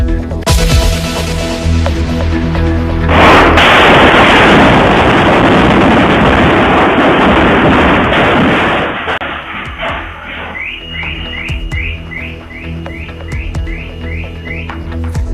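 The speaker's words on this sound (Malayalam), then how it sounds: "തൃപ്പൂണിത്തുറ സ്ഫോടനത്തിന്റെ നടുക്കുന്ന ദൃശ്യങ്ങൾ പുറത്ത്" A blast in Tripunithura lets out a sudden loud roar that swells into a long, rumbling wash of debris and noise, then fades into scattered crackles and distant alarms.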